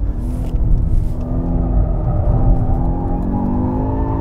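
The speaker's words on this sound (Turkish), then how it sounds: "drift yapmak aslında çok zor bir şey değil açıkçası" A 2021 BMW M5 Competition drifting at high speed, a loud sustained engine roar with shifting pitch and tire rumble, close and continuous with no talk.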